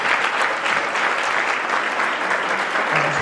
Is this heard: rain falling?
no